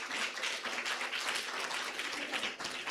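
Audience at a graduation ceremony in a Nairobi hotel applauding, a continuous, fairly soft wash of many hands clapping throughout with no pauses.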